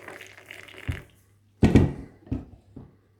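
Boiling water poured into a container, with a few splashy bursts and gurgles separated by brief pauses, close and moderately loud, no talking.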